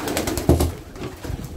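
Racing pigeons coo in a loft, one near, clear coo rising briefly over soft background rustle and murmur.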